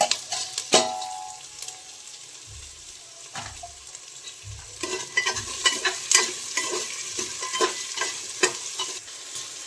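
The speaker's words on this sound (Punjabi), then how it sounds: "ਆਲੂ ਤੇ ਮਟਰ ਇਹ ਵੀ ਆਪਾਂ ਪਾ ਦਾਂਗੇ ਜੀ ਇਹਨਾਂ ਨੂੰ ਵੀ ਨਾਲ ਹੀ ਭੁੰਨ ਲਾਂਗੇ" Potatoes and peas stir-fried in a pressure cooker for Maggi noodles, with a steady oil sizzle and repeated scraping strokes of a spoon against the metal pot, close and fairly loud, no talking.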